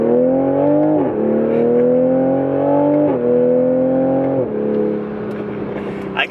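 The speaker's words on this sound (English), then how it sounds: "You hear a little bit of a whistle in it." A Toyota Supra A90 with an upgraded intake pipe accelerating through several gears, its engine note climbing and dropping at each shift, loud and close from inside the car, with only a faint turbo whistle.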